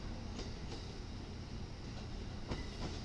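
A train rolls past at a distance, its steady rumble punctuated by paired clickety-clack beats from wheels crossing rail joints.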